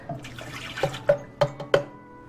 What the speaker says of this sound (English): And we're going to add in our milk.